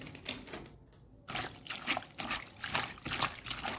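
Raw chicken liver is rinsed with a little turmeric in a kitchen, water trickling and splashing in uneven, continuous bursts close by, with a short quiet gap near the start.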